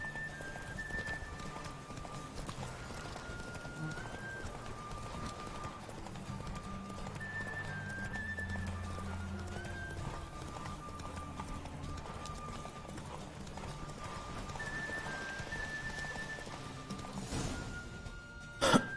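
Rhythmic clip-clop of horse hooves trots steadily under soft game music tones in The Witcher 3, fairly quiet, with a brief louder burst near the end.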